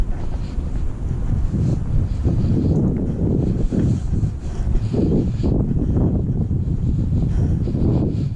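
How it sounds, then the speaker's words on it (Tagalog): Strong gusting wind buffets the microphone in loud, rumbling waves that rise and fall for the whole stretch. "Mahangin eh."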